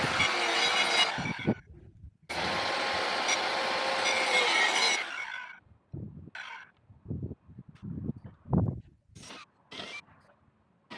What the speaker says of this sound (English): let's move fast forward to the plywood cutting